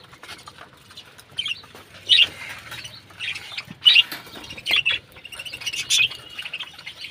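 Ducks and chickens in a colony poultry house feed in the morning, giving scattered light chirps and squawks with soft pecking patter and wing rustles at close range, and no talk.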